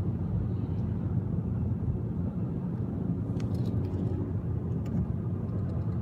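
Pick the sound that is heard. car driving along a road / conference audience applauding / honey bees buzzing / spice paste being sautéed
car driving along a road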